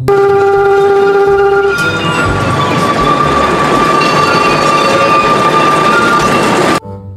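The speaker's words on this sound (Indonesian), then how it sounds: "ada kereta Thomas" A toy Thomas train runs steadily with a continuous whirring, rattling rumble and a faint high whine, close by, then stops abruptly near the end.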